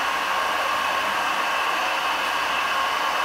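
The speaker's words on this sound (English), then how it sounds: "the blender's rotating, but you can see the shaft is spinning at high speed in there" A Gemco 5 cubic foot stainless steel liquid solids blender runs with its shaft spinning at high speed, producing a steady, loud, unbroken motor whir.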